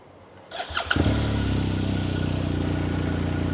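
A 2020 BMW R1250R motorcycle engine cranks briefly on keyless start and catches, then settles into a steady, loud idle that runs on without pause.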